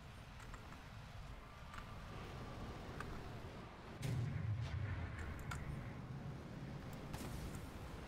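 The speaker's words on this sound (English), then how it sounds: "Oh, it's a missile. Missile knows where it is." Rumbling booms and a rushing roar from a missile in the War Thunder combat game, a deep low blast swelling midway through over continuous engine and battle noise.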